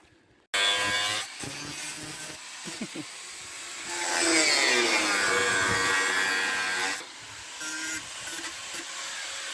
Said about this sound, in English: Got some last minute alterations to Rhonda with a grinder.